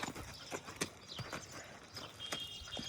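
Hooves of a mare clip-clopping as she is led up into a pickup truck: a string of irregular hard knocks and scrapes, some sharp and close, over faint background noise.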